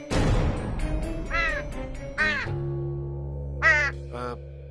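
A crow caws four times in harsh, throaty calls spaced about a second apart, loud and close over a steady low hum in the background, with no voices.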